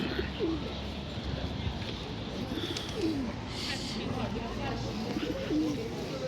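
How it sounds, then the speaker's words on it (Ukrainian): Pigeons cooing at an outdoor flea market, soft repeated low coos scattered through the clip, close by, over a constant murmur of crowd chatter and street noise. "Голубитику ходять."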